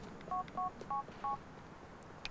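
A phone is dialed in the game GTA 4, with four even, close dial tones beeping in steady rhythm, followed by a faint click, no talking.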